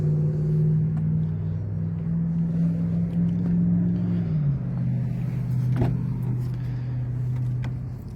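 A 2022 Toyota Tundra Platinum engine idles with a steady low rumble through its TRD exhaust, dipping slightly in pitch midway, fairly quiet and continuous with no talking.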